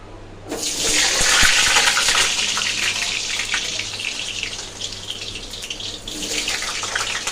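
Potato chunks dropped into hot oil in a pan while cooking soybeans, setting off a sudden loud hissing sizzle that keeps bubbling steadily and eases slightly toward the end.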